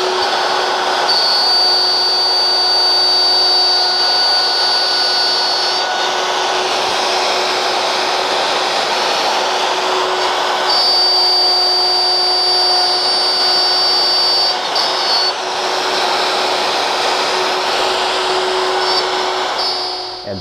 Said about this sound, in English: To show you how efficient cutting mortises with a plunge router can be, here's the process over again, at normal speed and unedited.